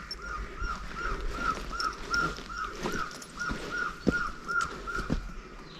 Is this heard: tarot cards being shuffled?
no